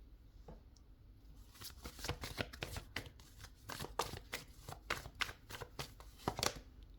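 Oracle cards are shuffled by hand, giving quiet, rapid bursts of papery riffling and flicking in an irregular rhythm, close to the mic and unaccompanied by speech.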